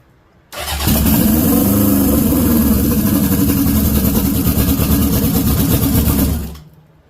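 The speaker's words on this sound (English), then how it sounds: "So the bike will actually start and run right now." A turbocharged motorcycle engine on a carbureted bike fires up and runs at a steady, loud idle for about six seconds, with a deep low rumble and no talking over it.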